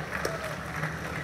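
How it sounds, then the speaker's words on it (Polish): Audience applause at a cabaret show on stage, a steady dense patter of clapping sustained through the whole short stretch at moderate level. "Wielkie brawa, dziękujemy."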